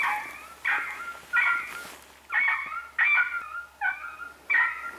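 A female coyote gives a string of yodel howls, about seven wavering, yipping calls in quick succession from a distance, clear against a quiet outdoor background.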